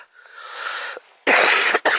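A person coughs outdoors on a cliff-edge gorge walk after swallowing a fly. One long rasping wheezy cough is followed by two sharp, loud, harsh bursts close to the microphone.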